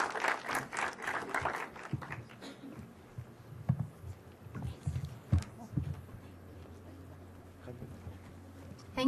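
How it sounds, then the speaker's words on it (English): A round of applause from a seminar audience at a mobile marketing talk, a dense burst of clapping for about two seconds that quickly thins out. Low room hum and scattered voices follow. "Round of applause, please."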